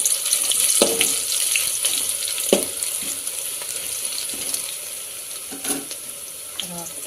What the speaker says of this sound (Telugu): ఫ్రై చేసుకున్నాం కదా ఆనియన్స్ వేసుకొని చేసుకోవాలి